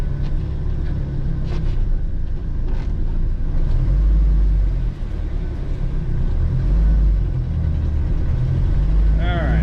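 A Jeep Wrangler YJ with an AX-5 manual transmission, freshly refilled with transmission fluid, accelerates on the road with a loud, steady engine and road rumble heard from inside the cab, swelling in brief surges as the gears change.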